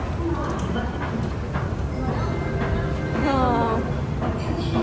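A metro train in Malaysia near a hotel produces a steady rumble with rising and falling motor whine, heard close, while voices murmur in the background.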